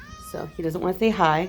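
A pet cat meows several times close by, drawn-out vocal cries between and under a woman's speech, the animal restless and wanting to go outside.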